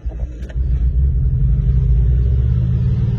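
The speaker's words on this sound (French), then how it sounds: "son ralenti est très élevé" A 1976 VW Combi T2b high-roof engine runs at a high idle out of gear, giving a loud, close, steady low rumble with no talk over it.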